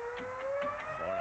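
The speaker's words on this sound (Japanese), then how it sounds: "まるでお昼のサイレンか野球が始まるみたいなもん" An overheating engine that has run out of water gives a steady, rising whine like a noon siren, sustained and fairly faint in a 1964 Stingray puppet-series soundtrack.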